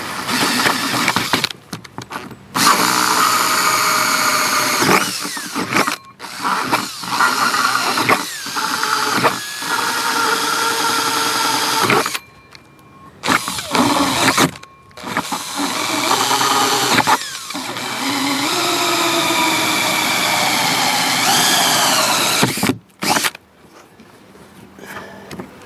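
A power drill runs in several loud bursts, starting and stopping with short pauses between, sometimes changing pitch as it bites into material.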